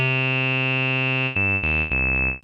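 A Modal Cobalt5s synthesizer holds a bright, buzzy sustained tone with a piercing resonant peak, then steps through a few quick lower notes with the resonance still ringing, loud and up close.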